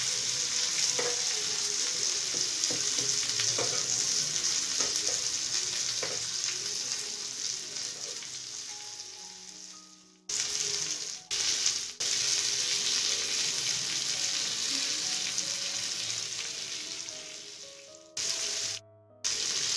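Lemon chicken with a knob of butter fries in a pan, giving a loud, steady, close sizzle that runs throughout and cuts out abruptly a few times before resuming.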